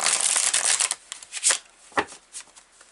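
A deck of tarot cards is riffled and shuffled close up, giving a quick papery flutter followed by a few softer slaps and taps as the cards settle.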